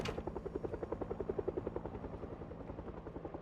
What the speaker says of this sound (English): sounds like the copter has left